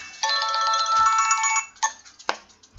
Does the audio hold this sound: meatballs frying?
no